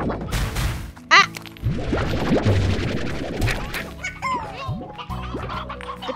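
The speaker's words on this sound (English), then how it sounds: "we have chickens on the farm too" Chickens clucking in the farming video game Slime Rancher, busy bursts of fowl calls mixed with sharp game impact sounds and squeaky effects, close and lively.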